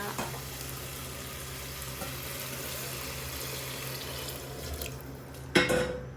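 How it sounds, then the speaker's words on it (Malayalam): A continuous hiss of liquid hitting a hot pan, steady for several seconds, ending with a sharp clatter. "ഇനി ഇതിലേക്ക് ആവശ്യമായിട്ടുള്ള വെള്ളം ഒഴിച്ചു കൊടുക്കുക"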